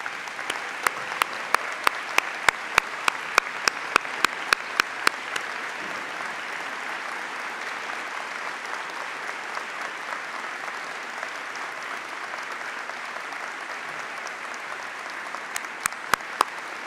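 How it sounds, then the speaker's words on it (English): An audience at a university convocation ceremony applauds the graduating class of 2022, a long, even wash of clapping with sharp, distinct claps standing out near the start and end. "So please stand so we can applaud you."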